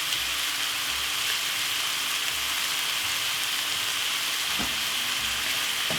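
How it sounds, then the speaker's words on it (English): Rice frying in a pan with chilli king prawns, lemon juice and vegetables, a steady close sizzle with occasional scraping stir sounds and no talking. "Give it a stir."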